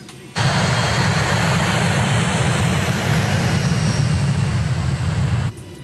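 Steady, loud broadband roar of an airplane engine heard from inside the passenger cabin during flight, a constant drone that holds almost the whole clip before cutting off.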